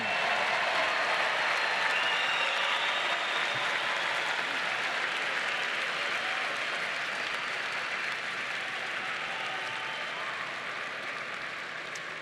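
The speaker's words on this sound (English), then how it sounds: "How about another round of applause for all of our graduates of the class of 2019?" A large crowd applauds the class of 2019 graduates at a Ball State University winter commencement, an even, sustained roar of clapping that tapers gently over its length.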